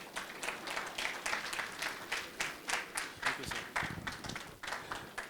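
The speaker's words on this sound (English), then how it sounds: "A proper round of applause," Applause from the audience at a book launch honouring a Supreme Court justice, steady clapping throughout with rhythmic peaks, moderately distant in a hall.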